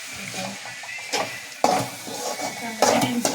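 Onions sizzle with salt in a pan while a utensil stirs and scrapes against it, with a few louder clanks, close by.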